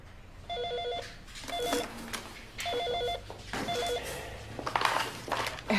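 A telephone ringing in four trilling bursts with short pauses between them, set against busy indoor background noise and faint movement sounds.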